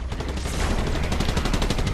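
Sustained automatic gunfire in a battle royale video game, a loud rapid stream of shots with a steady pulsing rhythm across the whole moment.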